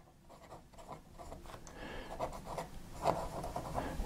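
An Esterbrook fountain pen with an oblique italic nib scratching across paper in quick, uneven strokes that grow slightly louder and rougher toward the end, heard up close with no talking.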